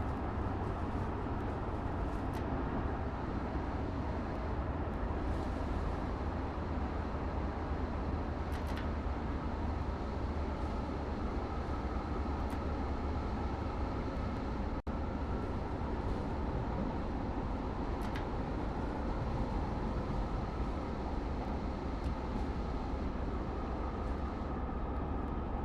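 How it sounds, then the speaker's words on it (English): NJ Transit passenger train in Train Sim World rolls along with light braking, giving a steady, dense rumble and wheel noise at constant level, with a few faint clicks and no voices. "We're gonna have it brake on just minimally to keep us going over."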